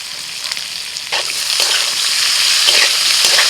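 Potato, onion and tomato frying in a pan crackle and hiss loudly up close, with stirring scrapes and a sizzle that swells and stays strong throughout.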